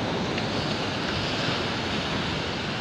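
Steady roar of ocean surf breaking along the Zambales coast in the Philippines, a continuous broadband wash with wind buffeting the microphone and no talking.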